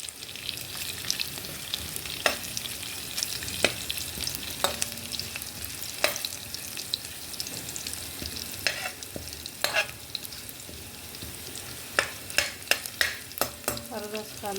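Whole spices and onions, including fried onion and onion paste, fry in a pan for chicken korma, with a constant loud sizzle and repeated sharp ladle clinks and scrapes that cluster near the end.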